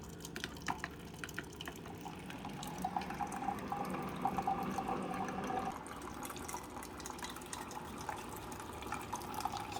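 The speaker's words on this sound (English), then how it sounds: "It's just running fresh water through without a K-cup." Keurig coffee maker running a fresh water rinse without a K-cup, a faint steady trickle and drip of water into the cup, with low machine hum underneath.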